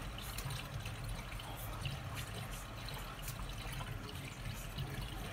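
Water drains and gurgles out of a sink during chocolate making, a loud, steady rushing wash lasting throughout with no talking.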